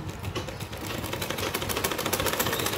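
Sewing machine running a basting stitch on blouse fabric, a steady fast needle chatter that gradually grows louder and more regular, alone with no talk.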